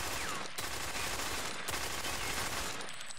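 Full-auto gunfire in the shooter game Ghost Recon Phantoms, dense continuous bursts of shots broken by two short pauses, loud and close, with no talk.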